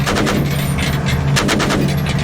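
Rapid rifle gunfire rattles out in a dense, continuous burst with sharp repeated cracks from a military shooter game, loud and close, with no talking over it.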